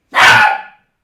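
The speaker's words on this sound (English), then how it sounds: "my dog is letting me know that there might have been an intruder" A pet dog gives a single loud, close bark at the door of a backyard shed workspace as someone arrives, sharp and brief, with no one speaking.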